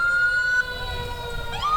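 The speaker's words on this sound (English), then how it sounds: "as you hear the alarms going off" Fire district emergency vehicle sirens sound during a community parade, a steady wailing tone that drops and sweeps back up, loud and close over low crowd and engine rumble.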